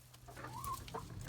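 Backyard chickens cluck softly and close by during an evening routine of gathering the flock, with a few short clucks and murmurs over a low hum.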